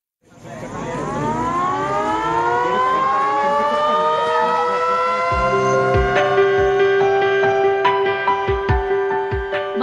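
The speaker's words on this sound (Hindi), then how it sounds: "हर शाम एक मकामी मंदिर से सायरन बजाकर मोबाइल फोन और दीगर गैजेट्स को बंद करने" An evening siren sounds from a local temple in Mohitanche Vadgaon village, Sangli district, Maharashtra. It is loud and wails upward to a sustained high tone, with a few faint knocks late in the sound.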